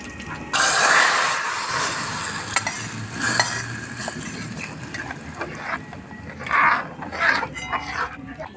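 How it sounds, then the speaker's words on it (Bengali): A sharp burst of sizzling as a spice tempering hits hot black gram (urad) dal cooked with fish head, settling into steady frying crackle with a few stirring scrapes and clinks. "ডালের মধ্যে ফোড়নটা দিয়ে দেবো"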